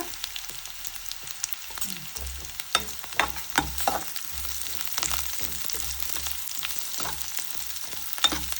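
Garlic and ingredients for ridge gourd chutney fry in a pan with a steady, close sizzle, punctuated by scattered sharp pops and crackles throughout.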